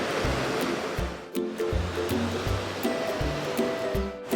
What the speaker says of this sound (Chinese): 现在我遇到一个瀑布景观，